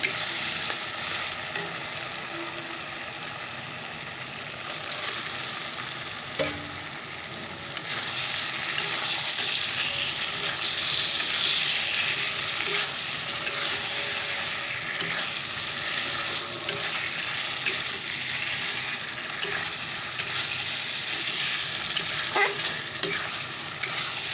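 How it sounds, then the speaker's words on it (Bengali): Chicken and spice masala frying in a pan give a steady, loud sizzle, with occasional stirring clatter and a brief surge of hissing partway through, close by and without speech. "চিকেনটা দেখো বসিয়ে দিচ্ছি মশলাটা কষিয়ে নিচ্ছি চলো চিকেনটা ছেড়ে দিই"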